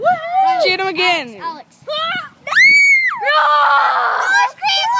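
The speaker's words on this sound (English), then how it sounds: "I scream like a girl!" A cartoon character in a comedic Avengers parody screams in high, piercing, drawn-out bursts, loud and close, several screams broken by short gaps.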